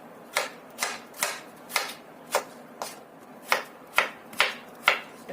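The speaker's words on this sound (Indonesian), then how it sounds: "Kemudian untuk timunnya, kita juga potong korek api." A knife cuts a cucumber into matchsticks on a cutting board, giving about ten steady, evenly spaced chops, each a crisp, close tap against the wood, with no talking.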